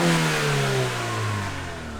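A car engine with a smoking fault revs up to higher RPMs, a loud steady rising drone that carries on alone for two seconds.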